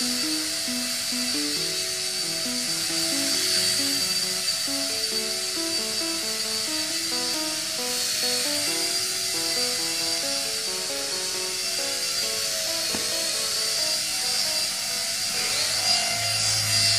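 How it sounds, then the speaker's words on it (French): Whining buzz of a small Silverlit Air Striker toy remote-control helicopter's motor and rotor, steady and continuous, with a wavering pitch as it flies nearby; no talking. "quand on règle bien notre hélicoptère, on arrive à le faire voler"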